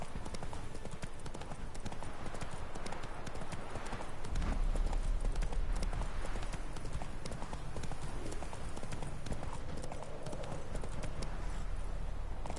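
Horse hooves trot in a steady clip-clop rhythm through the Witcher 3 video game, continuous and fairly close, with game ambience and a brief voice underneath.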